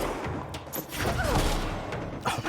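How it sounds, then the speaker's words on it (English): Explosive pod detonating in the game Control sets off a crackling burst of blasts and debris, a dense rattling fusillade with thumps that trails off over a couple of seconds amid other game noise. "Oh my god, he exploded like fireworks."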